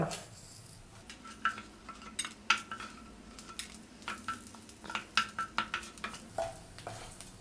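Urad dal, garlic and tamarind dry-roasting in a pan for mudakathan keerai thuvaiyal, with scattered scraping and clinking of a spoon against the pan over a soft, quiet sizzle.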